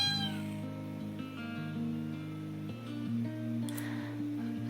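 A cat in the game Honkai Impact 3rd meows repeatedly in drawn-out, wavering cries over steady background music.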